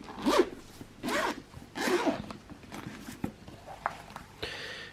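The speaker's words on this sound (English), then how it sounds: "and then inside the compartment, so it's a nice zip" Zipper on the inner compartment of a Bose QC35 II headphone case, heard as three quick rasping pulls close by, followed by soft handling rustles and faint clicks.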